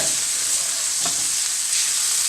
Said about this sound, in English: I'm actually going to turn it down, give it a stir